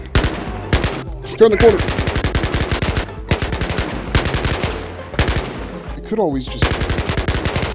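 Rapid bursts of automatic gunfire from a VR shooter, BONELAB, loud and close with short gaps between volleys, while someone talks over the shooting.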